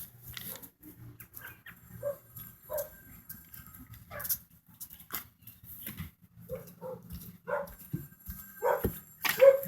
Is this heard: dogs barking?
yes